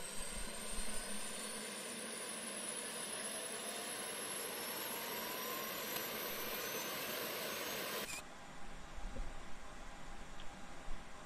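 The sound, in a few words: Airbus A320 APU starting up, Flight Simulator X video game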